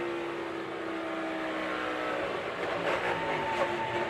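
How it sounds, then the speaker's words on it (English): Chase Briscoe's Mahindra NASCAR race car roars steadily from onboard at Las Vegas in 2022. The loud, close engine drone holds throughout and swells slightly near the end, with no talk. "Let's ride with Chase Briscoe, the Mahindra onboard camera"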